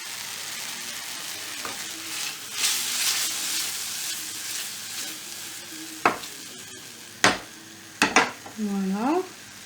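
Scallops searing in a hot pan give a steady close sizzle, broken by several sharp clanks of a utensil against the pan, with a brief voice near the end.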